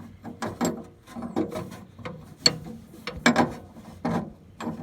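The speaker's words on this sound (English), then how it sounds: "We'll put a wrench right between these two posts here." A wrench works on the starter solenoid posts of a riding lawn mower, making a series of quick, close metallic clicks and ratcheting taps at an uneven rhythm.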